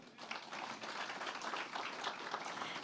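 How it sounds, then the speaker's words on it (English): Audience applause at a startup summit held by Plug and Play Tech Center, steady dense clapping from a large crowd, heard fairly faint and distant throughout. "Can we have a round of applause for that?"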